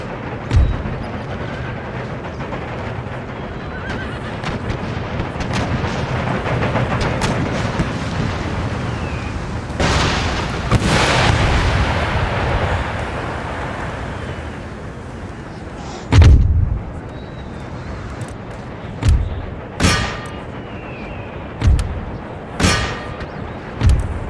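Cannon and howitzer artillery fire in the Empire: Total War video game during a siege of Brussels, with heavy booming blasts and a rumbling wash midway, then a series of sharp, distinct shots spaced a few seconds apart.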